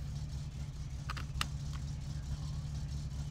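A warmed-up car engine runs in the driving simulation game My Summer Car, holding a low steady rumble throughout, with a few brief clicks and knocks partway through.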